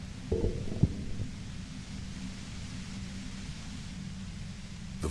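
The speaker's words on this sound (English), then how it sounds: "The violent white noise becomes even more overwhelming closer to the compressor." A compressor in the Disco Elysium video game gives off loud, steady white noise, a continuous wash with a low rumbling throb beneath and a couple of brief knocks near the start.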